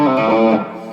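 A brief burst of electric guitar through the overdrive section of an Analogman Prince of Tone pedal, a gritty sustained chord that rings out and fades within a second.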